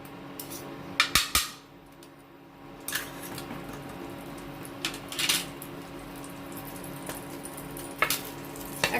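Butter melting into hot refined oil in a pan while cooking paneer butter masala, giving a soft steady sizzle with a few sharp clinks of a utensil against the pan.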